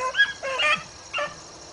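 A young hunting dog pup on one of her first outings gives three short whimpering yips, high and near, separated by brief pauses over quiet outdoor background.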